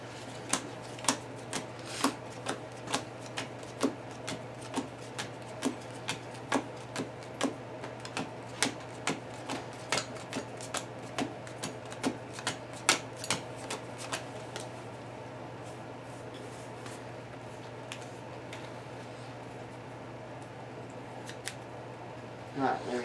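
Cards from the Lord of the Rings card game are shuffled by hand, with a long run of soft, rapid, evenly spaced snaps and clicks that slows and fades toward the end.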